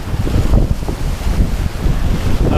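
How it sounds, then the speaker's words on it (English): Strong wind buffeting a microphone at a carp fishing lake, a loud continuous low roar with gusting surges throughout. "Wind is absolutely howling."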